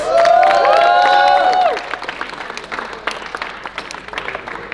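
Audience at a coaching programme event clapping, with loud cheers and whoops in the first two seconds, then scattered applause that carries on more quietly.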